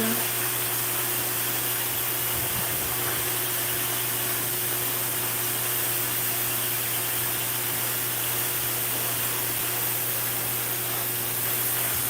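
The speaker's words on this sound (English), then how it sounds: "So I put the concentrated nozzle on there." A hair dryer fitted with a concentrated nozzle blows steadily and loudly at close range, giving an unbroken airy rush over a low motor hum that runs throughout with no talking.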